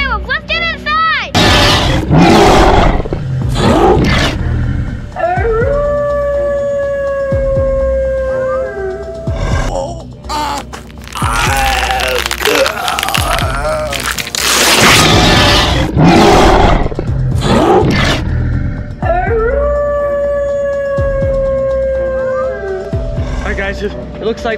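Monstrous werewolf roars and drawn-out howls rise and fall repeatedly, loud and close, mixed with excited voices and wavering tonal cries throughout.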